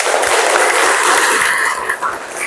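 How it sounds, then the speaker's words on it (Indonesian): Classroom applause for the students of class IPA 3, a short burst of steady, dense clapping from a group that fades slightly toward the end. "Aplaus dulu untuk semuanya di IPA 3 ya."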